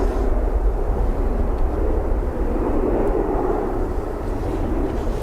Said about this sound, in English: Sounds like a 330 reversers on the north side